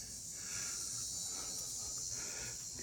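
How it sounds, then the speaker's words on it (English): High, continuous insect buzz of cicadas on a bright day outdoors, a steady faint shrill tone over light rustling and soft breathy sounds. "You can hear the cicadas."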